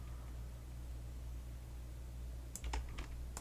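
A few quick, soft computer key and mouse clicks come near the end over a faint steady hum, as a Ctrl key is held and clicked in Autodesk Maya 2019.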